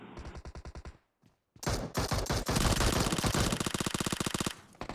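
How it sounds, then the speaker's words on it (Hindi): Automatic gunfire in the mobile game PUBG Mobile: a rapid burst, a short silence, then long loud sustained volleys of machine-gun fire. "मुझे पीछे से फायरिंग आती है"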